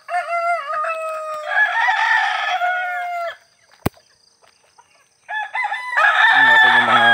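Young roosters (stags) crowing loudly nearby, with one long crow followed by another after a brief quiet gap, plus clucking mixed in.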